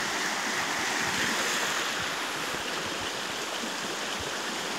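Water from a dam overflowing under pressure rushes in a loud, continuous roar across a road, a dense steady torrent with no pause and no voices.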